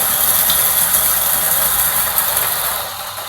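Coffee grinder with a feed disk taking in beans at a regulated pace, a continuous gritty whirring and crunching that holds steady, then begins to trail off at the end.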